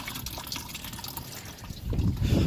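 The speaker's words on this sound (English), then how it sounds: "I'm draining this antifreeze right now." Antifreeze draining from a 1986 Oldsmobile Cutlass radiator at a junkyard, a faint steady trickle and drip of liquid that swells into a louder gush near the end.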